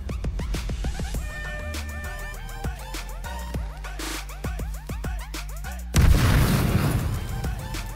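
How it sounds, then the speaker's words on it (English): A Molotov cocktail bursts in H1Z1 with a loud, roaring whoosh of fire, following a run of sharp, clipped in-game impacts and tones, then a dense crackling blaze that sustains to the end. "molotovs explode, catching any players around them on fire"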